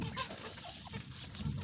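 Hens cluck softly in a village yard, a few low, faint calls rising over quiet background noise.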